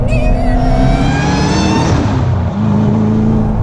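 A Ford Mustang GT500 engine revs loudly up close in the rain with wheel spin, its pitch climbing, dipping briefly, then holding at a strong, rough roar.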